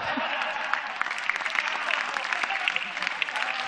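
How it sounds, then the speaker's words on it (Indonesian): Loud, dense applause from a comedy-show audience at Stand Up Comedy Indonesia (Suci X), a steady roar of clapping that fills the whole stretch without letting up. "Beri tepuk tangan untuk lima besar Suci X."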